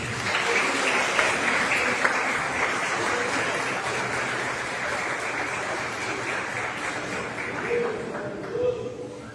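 Sustained applause from a church congregation fills the room, a steady dense clapping that holds loud and even throughout with no speech over it.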